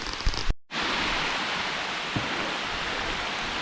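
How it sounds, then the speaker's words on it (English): Rain falls in the woods as a steady hiss of drops on leaves and ground, broken by a brief handling bump and cut near the start, then continuing evenly. "oh man, it's raining even harder now."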